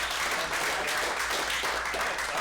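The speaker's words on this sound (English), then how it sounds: "give him a round of applause" Audience applause at a real estate investors' meeting, steady dense clapping filling the room at moderate level with no break.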